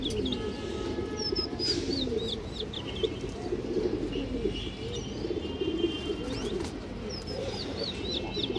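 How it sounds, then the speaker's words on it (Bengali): Large-headed high-flyer pigeons cooing in a loft, repeated soft throaty coos layered with occasional thin chirps and a faint wing flutter, continuous and close, with no talking. "বড় মাথা কবুতর এটা"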